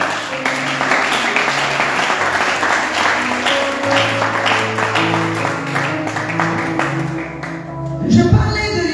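A church congregation breaks into sustained applause, a dense wash of clapping lasting several seconds before it fades out.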